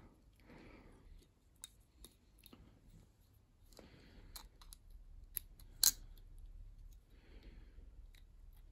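Faint, sharp clicks and snaps come from squeezing the sticky switch on a broken SWP electrode holder during repair, scattered irregularly over a quiet background with soft rustling between them.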